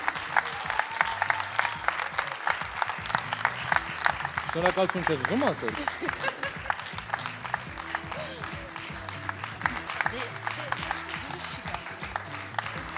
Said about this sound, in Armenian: Ծափարությունները Սոնային